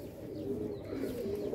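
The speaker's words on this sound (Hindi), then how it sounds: "ये कबूतर कहीं से आया था" Pigeons cooing among a kept pair of birds, a steady low murmuring coo running through the whole moment with faint higher chirps, close by and fairly loud.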